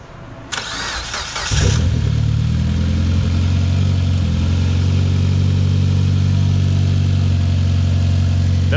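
A rebuilt Mitsubishi Evo X engine cranks briefly, catches and settles into a loud, steady idle close by.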